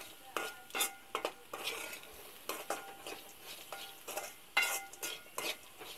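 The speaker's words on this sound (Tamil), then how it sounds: "இப்போ நல்லா கலந்தாச்சு" A spoon stirs carrot poriyal in a pan, giving a run of short scraping, clinking strokes at an irregular rhythm over a faint sizzle. The strokes are close and moderately loud, with no talking.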